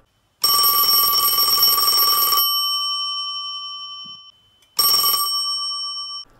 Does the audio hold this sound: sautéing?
no